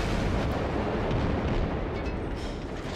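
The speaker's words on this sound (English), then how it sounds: "Oh, that explosion though." Heavy, continuous naval gunfire and explosion roar in the World of Warships game during a German cruiser battle, a dense loud rumble with no break.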